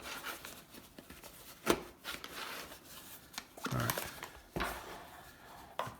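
A stubborn zipper on a headphone case is worked in faint, halting rasps and rubs, with short scraping bursts separated by pauses.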